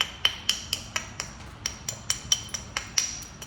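Stone knapping to bevel and thin an edge, heard as a steady series of about fifteen sharp, bright clicks and taps at a brisk, even rhythm, close by with no voices.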